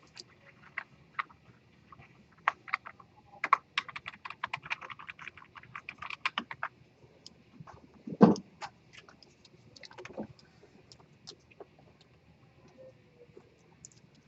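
Typing on a computer keyboard comes through as bursts of close, crisp key clicks in uneven rhythm, with a louder thump midway and scattered taps after, and no voices.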